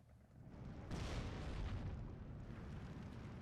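81mm mortar shells exploding in the Steel Division 2 war game, a low rolling rumble that swells after a moment and keeps booming and crackling distantly throughout.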